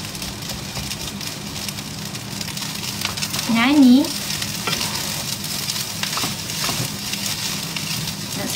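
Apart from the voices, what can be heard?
frying sardines spattering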